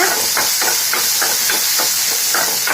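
Shallots, half a tomato and tamarind frying together in a pan for a kulambu, giving a loud, steady hiss with regular pulsing bursts, like stirring strokes, throughout.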